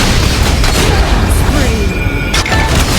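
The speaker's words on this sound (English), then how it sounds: "Your turret has been destroyed." A turret blowing up in an online shooter game, heard as a loud booming blast within dense game noise and overlapping voice audio.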